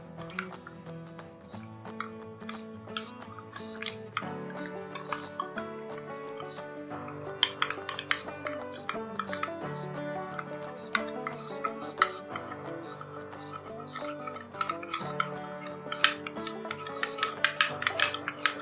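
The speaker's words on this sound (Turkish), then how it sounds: "Daha sonra bir çay kaşığı alarak içine karıştırmaya başlıyorum çikolatayla kahveyi" Teaspoon stirring chocolate into coffee in a cup beside a Jura ENA 5 coffee machine, with a steady run of small metallic clinks and scrapes against the cup over a soft background hum, no talk.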